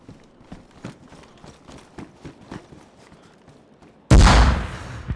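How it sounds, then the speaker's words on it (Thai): A grenade blast in the DayZ video game goes off as a sudden loud boom with a long fading rumble, following a run of hurried footsteps and scattered thuds. "ทิ้งระเบิดแล้วนะ"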